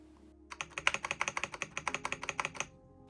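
Brisk typing on a Kemove K98SE mechanical keyboard, about twenty crisp close keystrokes in a quick, slightly uneven rhythm, heard alone in a quiet room.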